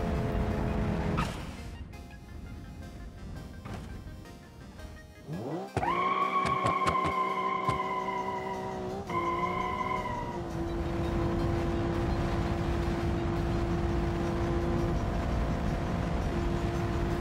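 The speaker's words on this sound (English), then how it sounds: "we'll still make a run down the highway and see what the top speed of these cars is" Viper concept cars tearing down a highway at top speed, one engine roaring up sharply and holding a loud, high whine before easing into a steady drone, with no talking.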